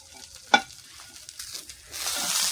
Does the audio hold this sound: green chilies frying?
yes